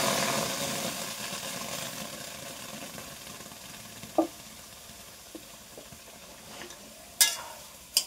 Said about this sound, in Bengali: আমি এই যে এই আমগুলো একটা কড়াইয়ে দিয়ে দিচ্ছি